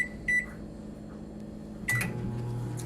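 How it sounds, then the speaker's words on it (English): Microwave oven running to heat food, with a short beep at the start, a low steady hum, then another beep and a louder whir, no talking. "So we're going to put this in the microwave"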